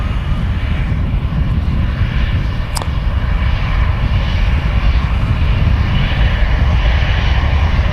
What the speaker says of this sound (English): This EasyJet A380 is from Copenhagen.